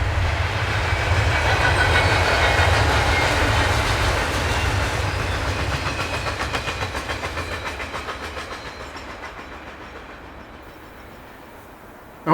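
CN freight train Z121 rolling past Juniper before dawn, a loud, continuous rumble with rhythmic wheel clatter that slowly fades as the cars go by.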